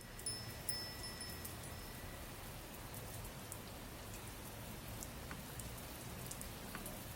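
Steady rain falls in the video game Adventures of Fei Duanmu, a soft continuous hiss with occasional distinct drips and patters, quiet and even throughout, with no voices.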